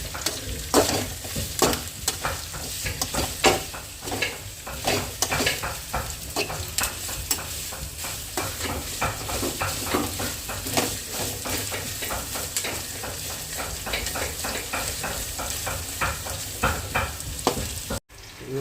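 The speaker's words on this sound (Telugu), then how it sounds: "వీటన్నిటిని ఒక ఫిఫ్టీ పర్సెంట్ వేయించుకోవాలి" Chopped vegetables with curry leaves fry in a pan, sizzling continuously while a utensil scrapes and stirs in frequent quick strokes, close and without talk.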